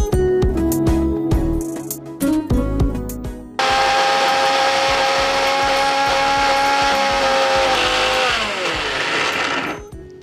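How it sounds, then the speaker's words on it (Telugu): A kitchen mixer grinder whirs loudly and steadily as it grinds urad dal with salt, starting after a few brief bursts and running continuously for several seconds before winding down at the end. "సో ఇప్పుడు మిక్సీ చేసుకుందాం."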